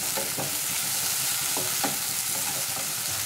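Tomatoes for upma fry over a high flame with a steady, dense sizzle. Regular scraping strokes of stirring come through clearly, there is no talking, and the sound is moderately close.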